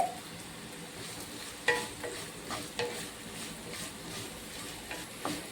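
Sliced onion fries quietly in a pan with a little salt while being stirred, a soft low sizzle punctuated by a few sharp spoon-on-pan knocks and scrapes; no voices.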